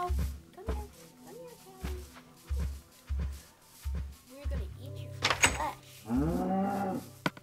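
Cattle mooing in a Minecraft-style block game, with repeated low moo calls spaced through the clip and a longer, louder bellow near the end, while a player talks over them.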